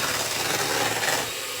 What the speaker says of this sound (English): I'm going to give that a good whisk. Make sure you get all the flour in.